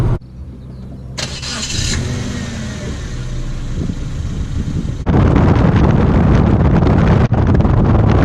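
A 2004 Mazda Demio engine cranks briefly and catches on a freezing day, then settles into a steady, loud idle rumble with a short dip near the end.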